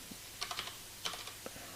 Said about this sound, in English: I'm having a really hard time typing today.